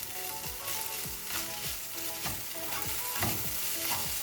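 Noodles and vegetable filling for paneer spring dosa are tossed and mixed in a hot pan. Rhythmic scraping strokes come about twice a second over a continuous close sizzle.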